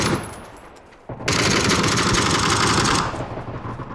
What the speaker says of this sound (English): Getting shot by somebody else.